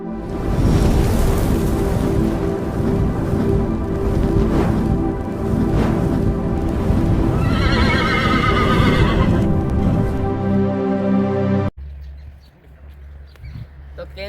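A mare neighs loudly and repeatedly up close on a farm, with hooves clopping and stamping throughout, followed by a quieter stretch at the end.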